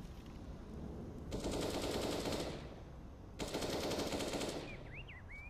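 Two sustained bursts of rapid automatic gunfire in a CS:GO professional match on the Cobblestone map, each roughly two seconds long and fairly loud, with a short gap between them and a few faint game tones at the end.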